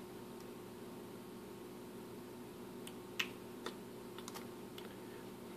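Keys on a Mac computer keyboard are tapped in a few sparse, faint clicks against a quiet steady room hum, near and isolated, with no voices.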